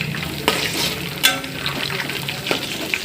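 Green chillies fry with onions and masala for a Hyderabadi mutton biryani, making a close, bright sizzle broken by a few sharp stirring clacks and spits.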